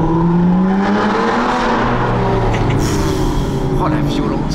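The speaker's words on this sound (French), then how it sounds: "À pleine charge, le V12" V12 car engine pulling at full throttle, a loud sustained howl climbing and shifting in pitch, with excited voices talking over it.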